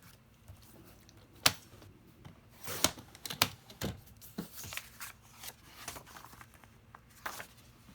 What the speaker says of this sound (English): We got to cut it down just a little bit.